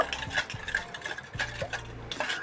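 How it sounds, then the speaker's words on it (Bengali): Sugar and white oil being mixed together in a bowl for biscuit dough, with repeated scraping and clinking stirring strokes at close range in an irregular rhythm, no voices. "এবার আমি চিনি আর সাদা তেলটাকে সুন্দর করে একটু মিলিয়ে নেব"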